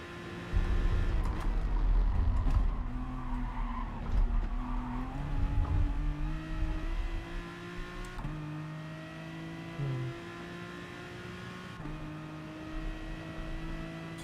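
A race car engine in Gran Turismo Sport drones at steady high revs through a lap of an online race, with shifting pitch bands and gear changes. Tire noise shows under the engine.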